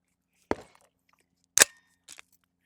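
A Mac IX pistol chambered in 9mm firing three separate sharp reports spaced about a second apart, each a short crisp crack with quick decay and silence between.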